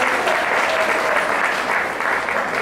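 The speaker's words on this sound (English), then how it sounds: "I'd like to give them a round of applause for being amazing" Audience applause at a jazz concert at the House of Blues, a dense, steady wash of clapping from a large crowd, sustained and fairly loud throughout with no break.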